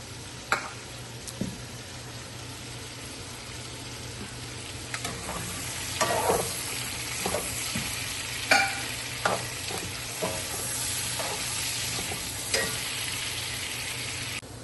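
Catfish frying in a pan alongside stirring, a steady sizzle running the whole time with scattered scrapes and clatters of a utensil against the pan, close by and moderately loud with no talking.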